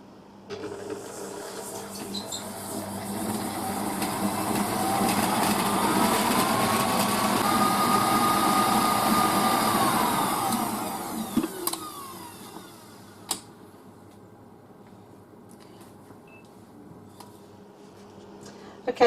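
An electric mixer beats Victoria sponge mixture with a steady mechanical whir that swells and holds for about ten seconds, then winds down to a faint hum broken by a few clicks.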